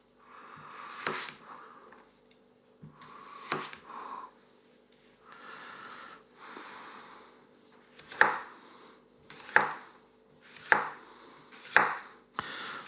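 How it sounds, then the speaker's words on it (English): A sharp kitchen knife slices through a raw potato on a board, with six or seven crisp cuts spaced about a second apart, the later ones louder and snappier, heard close up with no talking. "even the sound of it passing through the potato is different"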